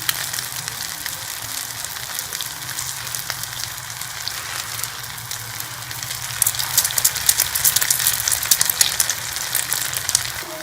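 Chicken shami kababs frying in a pan, with a continuous crackling sizzle up close that grows louder and more spattering toward the end, and no voices.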